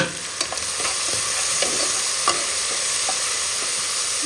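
Vegetables with soy sauce sizzle steadily in a frying pan for a restaurant-style Chinese vegetable dish while a spatula stirs them, giving scattered scraping clicks over the constant hiss, with no talking.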